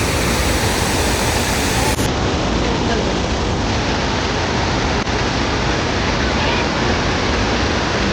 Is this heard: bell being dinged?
no